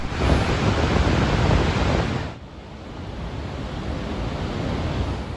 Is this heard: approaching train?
no